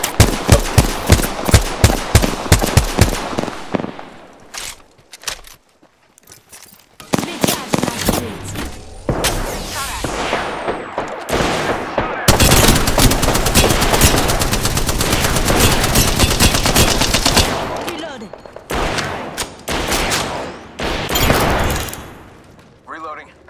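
Rapid automatic weapon fire in an Apex Legends match, loud bursts of machine-gun rattle and single shots repeating through most of the stretch, with brief pauses and game effects between volleys.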